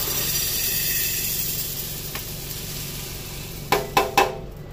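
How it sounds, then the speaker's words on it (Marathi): Moong beans dry-roast in a pan with a soft continuous hiss, and a few sharp scraping stirs come near the end, close and fairly quiet. "पाव किल मूग घेतल्या ते एके कायलीन घालून भाजून घेवपाक जाय।"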